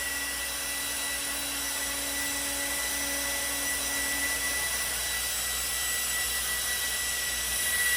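Upgraded cooling fan on a Razor scooter motor running flat out, a loud, steady high-pitched whir and rush of air with a whining tone, continuous and close throughout.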